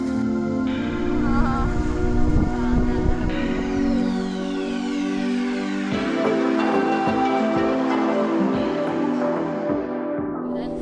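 A 27-year-old Wave Blaster II jet ski runs continuously on open water, its engine droning with shifting pitch as throttle rises and falls, accompanied by spray and splashing noise throughout.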